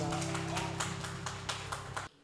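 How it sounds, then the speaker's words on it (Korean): Evenly spaced claps at a King Sejong birthday celebration event, a crowd clapping in rhythm over a sustained musical tone, then stopping abruptly near the end. "두 분께 박수 부탁드리겠습니다"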